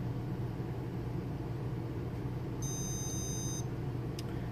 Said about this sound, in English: Okay, it beeps that it's done.